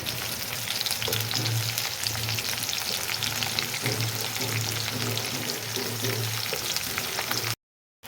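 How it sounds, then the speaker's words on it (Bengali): Onions fry in oil tempered with whole cumin, dried chillies, bay leaf and whole garam masala for a mutton curry, making a continuous loud, close sizzle with faint stirring that stops abruptly at the end. "পেঁয়াজটা হালকা হালকা লাল লাল ভাজা হয়েছে,"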